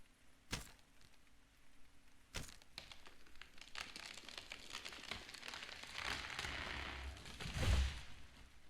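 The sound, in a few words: chopping wood in the video game Steam Hammer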